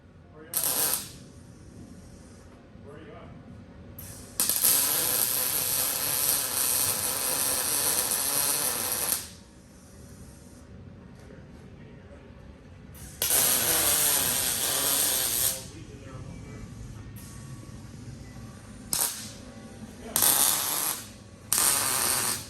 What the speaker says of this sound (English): getting ready to tack her together